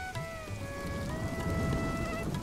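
Rain falls steadily outside, a close, even patter across the whole stretch, with a sustained tonal hum layered over it.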